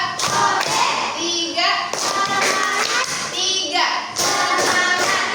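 A school class claps together in a counted classroom clap routine, with short bursts of hand claps and thumps separated by children's chanting voices, lively and close.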